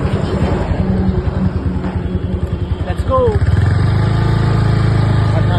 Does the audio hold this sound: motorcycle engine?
yes